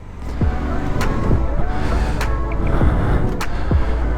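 Motorcycle engine during a riding-school lesson, a steady close rumble with rising revs and gear changes throughout and no speech.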